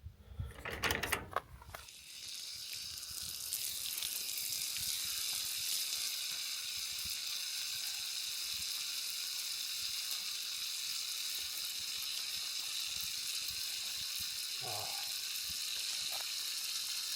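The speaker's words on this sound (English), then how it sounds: "now I'm going to go down to our little hose down there and get wet" Water gushes from a garden hose outdoors on hilly land, a steady close hiss and splash running continuously after a few loud handling knocks at the start.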